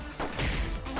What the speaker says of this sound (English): I heard something fall.